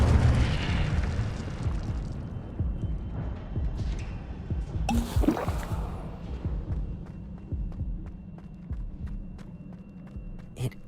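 A fire spell cast in a wizarding video game bursts out suddenly near the middle, a bright crackling whoosh over a steady low game rumble and scattered small pops.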